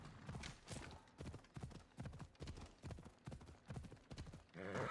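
Horse hooves clip-clop in Assassin's Creed Odyssey, a quick, steady galloping rhythm of repeated hoofbeats that runs loud and close throughout the clip.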